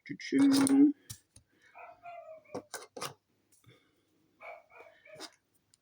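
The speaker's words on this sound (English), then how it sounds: "If you hear my neighbor's dog, he is a little yapper." A small dog yaps from nearby, giving one long loud bark followed by several shorter, quieter yips spaced out over a few seconds, with a person speaking between them.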